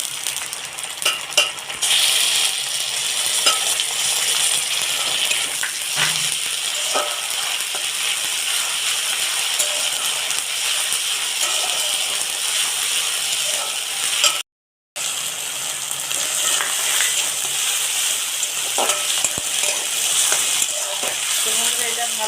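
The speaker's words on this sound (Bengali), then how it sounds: "পেঁয়াজটা তো ভেজে নিয়েছি তো এর মধ্যে আমি আদা রসুন বাটা দিয়ে দেবো" Fried onion sizzles with ginger garlic paste in a pan while ghugni is cooked. The frying hiss is steady and close, broken by the scrape of stirring and a brief dropout.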